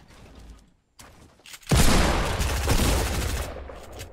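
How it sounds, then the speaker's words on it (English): Shotgun fire in Fortnite, a loud burst of overlapping blasts and clatter that erupts after a few quieter shots and brief silence, sustained for about two seconds. "That shotgun's terrible."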